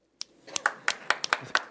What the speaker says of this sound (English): Can we give a quick round of applause for the admin?